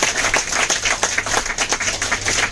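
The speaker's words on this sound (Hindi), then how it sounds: "तालियां" Audience clapping at a company gathering, a dense, loud burst of many hands applauding close by in a steady rapid patter throughout.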